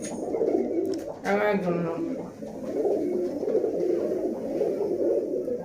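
Pigeons, including a white-eyed male, coo steadily in low, throaty murmurs, close by at a pigeon sale, with a short voice cutting in briefly near the start.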